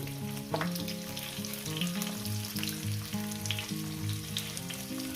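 Mourala fish with potato and spinach frying in a pan, a steady close sizzle with occasional stirring scrapes under a faint hum, no talking.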